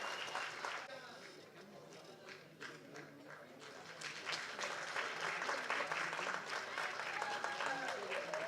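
Audience applause at a film audio launch event as director Bagyaraj is welcomed to the stage, a steady crackle of many hands clapping that builds and grows fuller toward the end.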